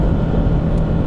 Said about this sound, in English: let's do the sound check if you're foot to the floor